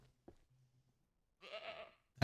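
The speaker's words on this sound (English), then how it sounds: "There's all my goats." Goats bleating inside a pen in the Ranch Simulator video game, a short cry followed by a longer, louder bleat, with a faint low hum between calls.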